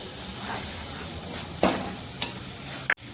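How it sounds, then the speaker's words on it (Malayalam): Onions, sliced green chillies and curry leaves sautéing in a pan for beef vindaloo, a steady low sizzle with a few sharp scrapes and a metallic knock near the end, no voices. "സവാളയെല്ലാം നന്നായിട്ട് വഴറ്റി കിട്ടിയിട്ടുണ്ട്"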